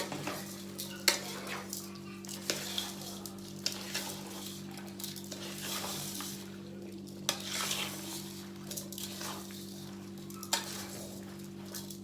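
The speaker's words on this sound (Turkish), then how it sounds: "Sonra şöyle güzelce bir karıştıracağım." Peppers with salt and vinegar stirred steadily in a pot, with repeated spoon scrapes and light clinks over a constant low hum, close and continuous.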